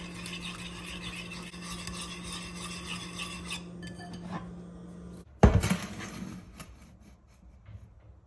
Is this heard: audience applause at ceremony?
no